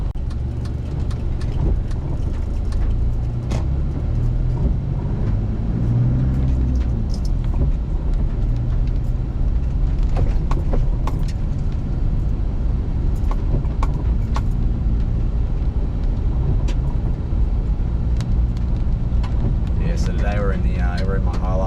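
Interior of a standard, unmodified Toyota Hilux farm truck with no suspension mods driving a 4WD trail, a steady loud low engine and road rumble with bumps and rattles throughout.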